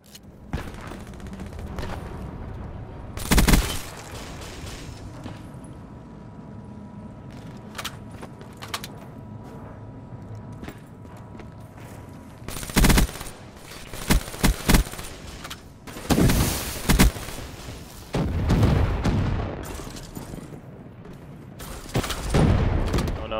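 Bursts of gunfire from Black Ops 3 multiplayer on a DLC map, several sharp, loud volleys and single shots scattered over a steady game-sound background, with no speech over them.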